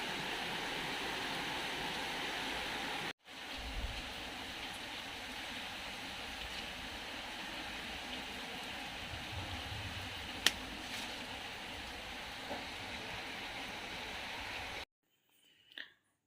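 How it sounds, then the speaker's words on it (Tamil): Steady wind and rain on a rainy day as a dense, continuous hiss of rainfall, loud and even, briefly cut off twice. "காற்று மழையுமா இருக்குது, என்ன பண்ணனே தெரில."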